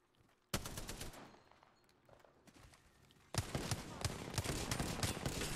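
Rapid automatic gunfire from the video game Apex Legends, coming in two loud sustained bursts of fast popping shots, with a quieter lull of scattered shots between them.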